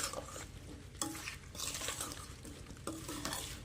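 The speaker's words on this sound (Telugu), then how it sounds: "అన్నీ ఇట్లా ముక్కలు కలిసేంత వరకు ఇట్లా కలుపుకోవాలన్నమాట." Drumstick (moringa) pieces being stirred into a spiced pickle mixture, with a steady scraping and mixing sound and a couple of sharper knocks, close and moderately loud with no talk.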